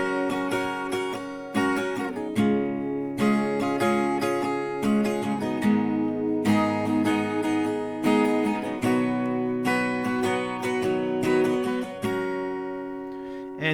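Acoustic guitar strummed in a steady down-up pattern through the chord progression of a song, bright ringing chords played close with regular rhythmic accents and no voices.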